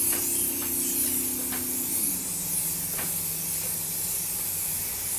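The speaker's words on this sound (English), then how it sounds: "Alright, I'm gonna spray this too." An aerosol can of spray paint hisses steadily onto a TV antenna, a continuous close airy spray that runs through the whole stretch, with a faint tonal hum fading partway through.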